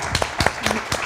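A studio audience applauds its guests: a short burst of scattered, close hand claps with no cheering evident.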